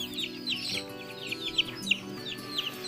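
Native chickens cluck and chirp close by in a farmyard, a busy overlapping run of short calls with sharper squawks standing out over a continuous low background hum.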